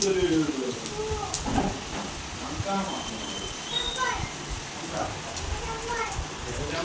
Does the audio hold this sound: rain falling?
yes